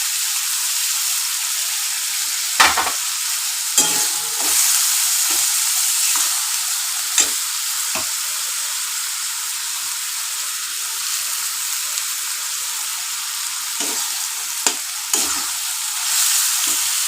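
Ginger and garlic sizzle steadily in a hot pan for chicken curry, a constant bright hiss close up with occasional soft stirring scrapes and clinks, and no talking.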